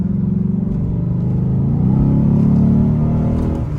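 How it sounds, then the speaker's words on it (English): Heavy, low exhaust drone fills the cabin of a Lexus ISF under acceleration, a loud, steady booming rumble that swells slightly in pitch as it pulls, with no talk over it. "This drone is pretty bad in here"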